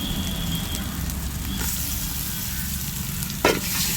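Tomatoes sautéing in a pan of chicken biryani masala make a continuous close sizzle, with light scraping of a stirring spoon and a sharp knock from the utensil near the end, and nobody speaking.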